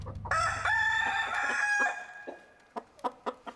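A rooster lets out one long, loud crow close by, then chickens give several short, spaced clucks as it fades, with no voices over them.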